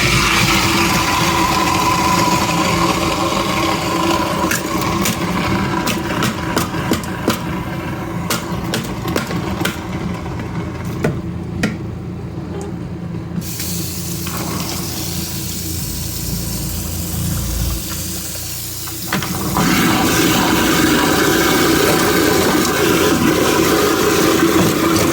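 Kitchen garbage disposal grinding ice with vinegar, a steady loud churning roar with clattering, rattling bits, which drops to a quieter whir partway through before surging back.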